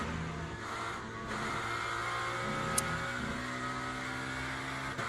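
A race car engine roars at Le Mans in a racing video game, a steady, dense drone that holds at an even level throughout with no voices.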